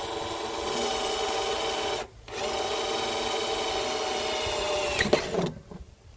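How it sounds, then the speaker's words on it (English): A new Garden Joy drill bores a hole through a plastic container top, a close, steady whining motor hum that pauses briefly, resumes, then stops near the end, with no talk. "But before I cut it, guys, I have to drill a hole."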